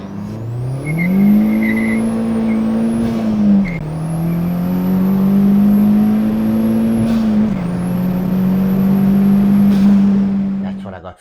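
A project car with a new fuel pump and CV joint is driven hard from inside, the engine note climbing through rising revs and shifting gears, loud and close with a high whine throughout.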